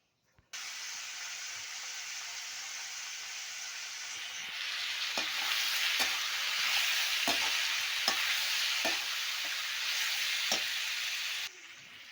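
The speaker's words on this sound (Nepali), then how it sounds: "तरकारी चाहिँ पाक्दैछ" Chopped pumpkin, potato and onion cooking in a pan for a vegetable curry: a continuous hissing sizzle that swells louder midway, with regular sharp stirring scrapes against the pan.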